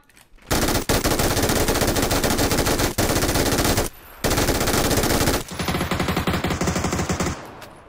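Rapid automatic gunfire in PUBG, long loud bursts of close shots that break off into short pauses and then resume, carrying on for several seconds with no talking over it.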